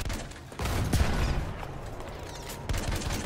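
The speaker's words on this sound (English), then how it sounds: "That's a field cannon that's hitting us." Field cannon shells strike an armored vehicle in the game Landship, giving heavy booming impacts and rumbling bursts over a constant mechanical drone, loud and close, with sharp hits near the start and end.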